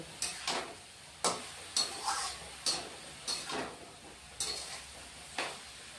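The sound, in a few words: frying spices with turmeric, cumin and chili powder in pan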